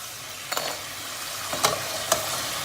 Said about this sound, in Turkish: Patatesin kızardığını nereden anlarız? Yüzüne doğru çıkar.